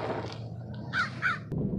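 Crows caw outdoors in two or three hoarse calls, a quick pair standing out close together, with no talking.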